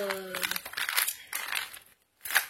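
Paper envelopes crinkle and rustle in quick close bursts with a short quiet gap before a final crackle; a brief voice-like hum sounds at the very start.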